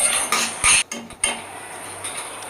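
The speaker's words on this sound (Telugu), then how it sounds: "ఇలా కలుపుతూనే ఉండాలండి అది ఆలు మొత్తం నెయ్యి వదిలే వరకు అంచులు వదిలే వరకు కలుపుతూనే ఉండాలండి కంటిన్యూస్గా" Potato halwa being stirred in a pan with ghee, a metal spoon scraping and clinking against the pan in several short, close bursts, with softer scraping between them and no talk.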